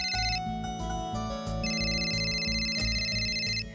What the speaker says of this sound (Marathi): अरे सत्या, कधीपासून वाट बघत होतो रे फोनची